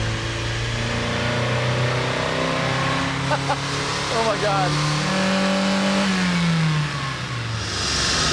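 A Mazda Miata spec race car engine revs and accelerates loudly up through the gears, its rising and falling pitch sustained throughout, with people speaking and exclaiming over the engine noise.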